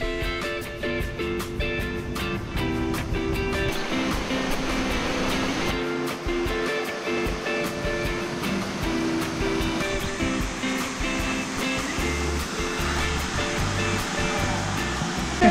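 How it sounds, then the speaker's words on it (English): Steady, full rush of a waterfall in Glacier National Park close by, a constant roaring wash that continues without pause throughout. "We made it to the waterfall."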